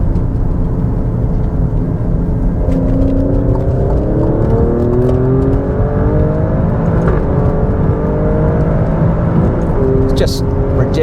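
A 2020 Alfa Romeo Stelvio Quadrifoglio SUV speeds along back roads, its engine note climbing through gears in rising sweeps over heavy road and wind roar inside the cabin.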